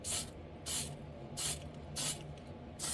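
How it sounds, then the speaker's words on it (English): Five short, even bursts of hissing come from a Testors Dullcote spray can coating a Bronco scale model, each puff loud and close with brief gaps between. "I'm just going to give it just a quick spray"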